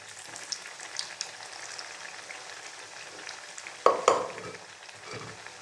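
Vada fritters deep-frying in hot oil at a tea-stall kitchen give a steady crackling sizzle throughout, with a couple of louder bursts of spattering partway through, heard alone without speech.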